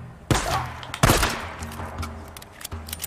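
Gunfire from the video game Days Gone: sharp shots crack out near 0.3 and 1 seconds, with a later shot near the end, fairly loud against a low game backdrop.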